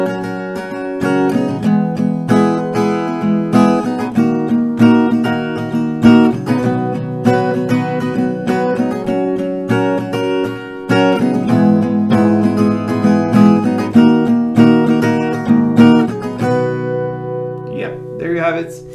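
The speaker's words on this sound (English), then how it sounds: "So I'm gonna play this full post-chorus part for you, so it sounds like this." An acoustic guitar strums the post-chorus of a song in a steady chord rhythm with clear, ringing strings. It plays alone for about eighteen seconds and fades out on a final chord.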